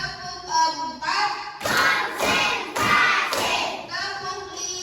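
Children clap along in an Indonesian focus clapping game, a few loud claps and thumps in short bursts while an adult voice calls out counts over them.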